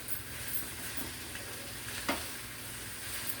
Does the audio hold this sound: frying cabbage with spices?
yes